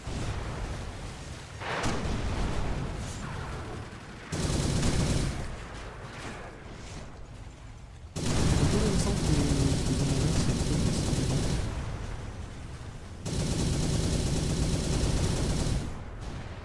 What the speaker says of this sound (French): Pourquoi ça tire dans les bâtiments? Pourquoi tu les lobes pas tes missiles?